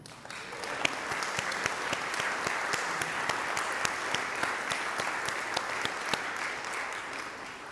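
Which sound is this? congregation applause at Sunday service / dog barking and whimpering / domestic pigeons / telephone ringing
congregation applause at Sunday service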